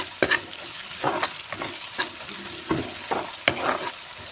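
Onions and spices are stirred and fried in a pan for a Bengali prawn curry, with a steady sizzle broken by a series of distinct scraping strokes of the spoon against the pan, close and clear.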